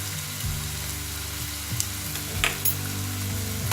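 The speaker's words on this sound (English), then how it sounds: "You have to stir it." Poha, Bengali chirer polao seasoned with salt and turmeric, sizzles in a pan while being stirred, a steady frying hiss with occasional scrapes and clinks of the spoon.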